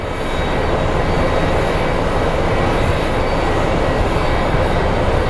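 A Southwest airliner at Phoenix Sky Harbor airport gives off a steady, loud roar that holds at an even level for the whole stretch, with no voices.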